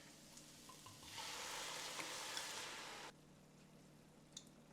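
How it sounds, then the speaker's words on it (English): Onions caramelizing in oil in a pan burst into a loud, steady hiss as port wine is added, sizzling for about two seconds before dropping back to a quiet simmer with a few faint pops. "we're gonna caramelize the onions"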